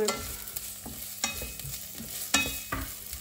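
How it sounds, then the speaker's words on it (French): Onions sizzle softly in a saucepan while a utensil scrapes and stirs in quick, irregular strokes, close up and without talking. "faire revenir un tout petit peu les oignons"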